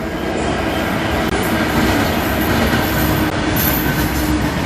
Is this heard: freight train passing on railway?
yes